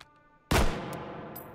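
A single loud, booming shot from the H51K in the VR game Hot Dogs, Horseshoes & Hand Grenades, with a long reverberant tail and faint clicks after it, no talking.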